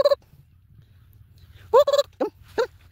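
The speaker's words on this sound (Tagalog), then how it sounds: "Ang laki ng ibon." A large bird calls with a few loud, harsh gobbling bursts close by, separated by short pauses.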